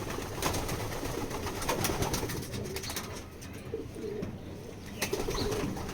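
Pigeon cooing in soft, repeated low calls, fairly faint and close, with no talk.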